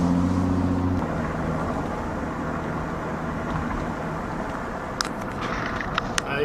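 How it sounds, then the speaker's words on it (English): A BMW E36 with a swapped N55 engine and straight exhaust hums steadily from inside while driving in heavy traffic, a low constant exhaust drone with road noise and a few faint clicks toward the end. "You can hear the exhaust is pretty quiet, and it's just a straight exhaust."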